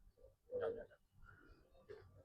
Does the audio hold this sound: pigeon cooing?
yes